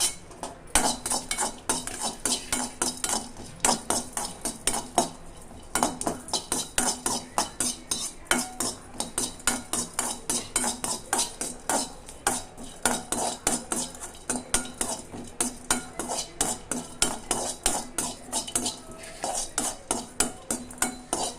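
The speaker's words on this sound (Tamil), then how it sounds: "பூண்டையும் போட்டு ஒரு வர வறுத்துக்கிறேன்" Garlic dry-roasting in a pan for a drumstick-leaf and puffed-rice dish, stirred steadily with a utensil, giving a continuous run of quick scraping and clinking strokes against the pan for over twenty seconds, with no talk.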